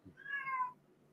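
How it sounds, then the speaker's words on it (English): A cat lets out one drawn-out meow, soft but clear, heard alone. "Now your cat's looking for my cat."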